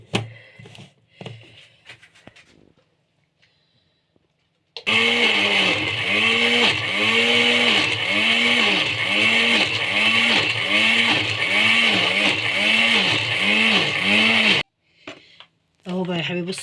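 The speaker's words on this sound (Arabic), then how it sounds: "بصوا بيتضرب ازاي في الخلاط اهو" A blender grinds fava beans for falafel loudly and steadily for about ten seconds with a pulsing, churning rhythm, after a person speaks briefly and before speech resumes.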